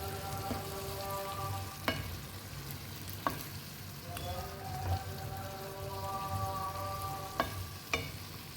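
Beans are stirred together with their ingredients in a pot, with spoon scrapes and knocks against the pot rising over a steady background hiss and hum, plus a few sharp clinks.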